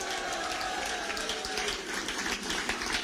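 Applause greets Senator Dick Blumenthal at an Election Day victory event, a steady dense wash of clapping from a crowd that holds for the whole stretch, with a faint voice mixed underneath.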